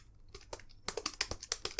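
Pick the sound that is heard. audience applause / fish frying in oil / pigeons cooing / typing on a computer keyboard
typing on a computer keyboard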